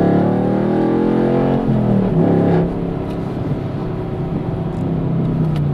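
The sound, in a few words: Camaro SS V8 with MRT cat-back exhaust accelerating through gears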